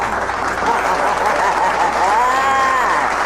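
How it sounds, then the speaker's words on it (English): Hands clap steadily on a live radio broadcast, a dense, even patter of applause that holds at a fairly loud level throughout, with a faint voice or tone drifting in the background. "Give me a hand clap."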